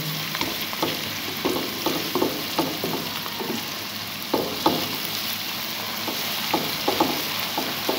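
Chana dal roasting in a pan, a continuous dry sizzle broken by repeated scraping stirs of a spoon against the pan, close and fairly quiet, with no talk.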